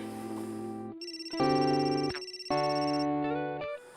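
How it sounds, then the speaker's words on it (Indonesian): A phone rings with a bright, electronic tonal ringtone, bursts of layered beeping tones starting and stopping in a patterned sequence, close and fairly loud. "Telepon dari siapa tuh?"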